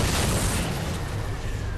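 Rocket explosions in the video game Halo 4, a sustained rumbling barrage of booms and bursts that fills the whole stretch, dense and loud with no clear gaps.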